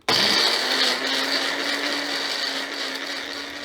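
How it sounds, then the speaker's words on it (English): A Magic Bullet blender grinding herbs into cleansing grains, a loud steady motor whine with rattling that starts abruptly and holds unbroken throughout. "I'm just going to use my handy dandy magic bullet"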